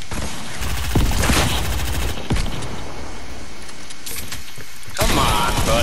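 Gunfire rattles in Fortnite as four players fire on a single opponent: dense bursts of rapid automatic shots come in clusters, loud and close, with mechanical clicks and rustles in the pauses between volleys.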